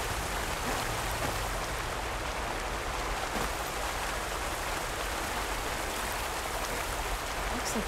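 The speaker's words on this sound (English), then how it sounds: "Looks like there's something behind the waterfall." A waterfall in Horizon Forbidden West pours steadily, a dense, constant rushing hiss of falling water close by, with no breaks and no speech.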